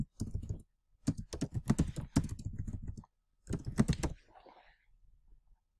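Bursts of fast computer keyboard typing while editing text, close and crisp, in two runs separated by a short pause, ending with a faint click.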